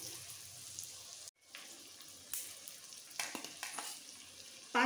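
Chopped tomatoes hitting already-fried onion in a pan for Bengali chicken tarka, with steady sizzling and occasional stirring scrapes, a brief drop-out in the middle and a sharp clatter at the end.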